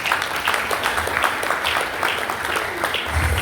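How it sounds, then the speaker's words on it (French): A school audience applauds graduates at a lycée graduation ceremony: dense, sustained clapping from many hands, fairly close and steady throughout, with no voices standing out. "Je demande à l'auditoire de les applaudir"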